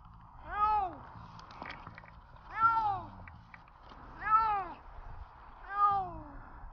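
A cat meows four times at a steady, unhurried pace, each meow clear and fairly close, with quiet background noise between, during a treetop rescue.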